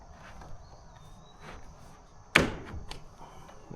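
A tiny house door fitted with striker plates is pinned shut, giving one sharp close thunk of the latch amid quieter handling noises and faint background crickets.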